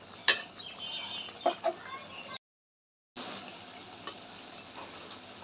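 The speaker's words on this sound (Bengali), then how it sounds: "আর একটু কষাই নিব।" Chicken stir-fried in a pan for morog polao: a low sizzle with a few sharp spoon clinks, cut by a brief silent gap before the frying resumes.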